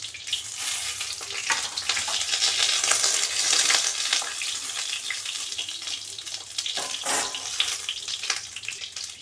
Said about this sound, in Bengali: বেগুনগুলোকে উল্টো পিঠ করে দিয়ে হালকা করে ভেজে নেব